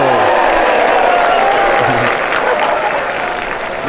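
Crowd at the Ryder Cup golf tournament applauding and cheering a shot onto the green, a dense, steady wash of clapping that fades slightly toward the end.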